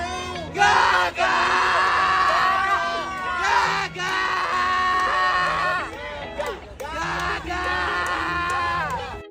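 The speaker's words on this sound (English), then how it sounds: "Brazilian fans outside Gaga's hotel screaming for her to come out like she's the second coming of pop." Brazilian fans gathered outside a hotel scream and shout together in loud, sustained high-pitched waves, with brief dips between surges of cheering.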